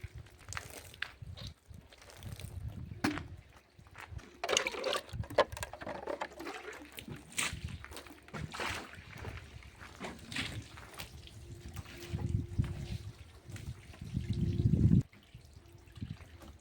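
Water runs and trickles from a tap during washing, fairly faint and uneven, with intermittent splashes and drips and a brief louder gush near the end.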